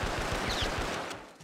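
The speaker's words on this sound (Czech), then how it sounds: "On střílí z trávy toho, vado?" A rapid burst of automatic gunfire in the Vietnam War shooter Vietcong, a quick rattle of shots that fades out over about a second, somewhat muffled and moderately loud with no talk.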